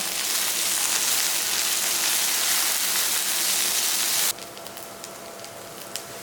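Ginger garlic paste sizzles in a pan as it is stirred for a chicken liver dish, a steady loud frying hiss that stops abruptly partway, leaving faint clinks and low background.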